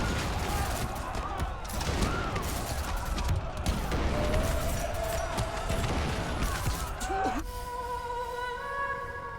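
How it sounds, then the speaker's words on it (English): Battle fire in the strategy game Dune: Spice Wars, with snipers shooting at gunners. Dense crackling shots and clashes carry on steadily over the din of combat, and a voice talks over part of it. "Snipers are taking pot shots at my gunners"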